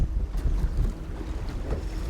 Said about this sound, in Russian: Сегодня у нас ветер прям изнуряющий.